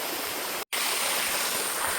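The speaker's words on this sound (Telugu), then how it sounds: "ఇప్పుడు వాటర్ ఫాల్ దగ్గర ఉన్నాను ఈ వాటర్ ఫాల్ వ్యూ చూడండి ఎలా ఉందో" A waterfall pouring near a cave Shiva temple, a loud, constant broadband rush of falling water with a momentary dropout, otherwise unbroken and close.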